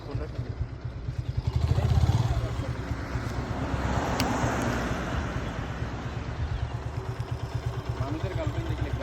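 Two motorcycles, each carrying two riders, run along the Bhatiari road in Chittagong; engines thrum with a rapid pulsing beat that swells and fades as they pass, under people talking nearby.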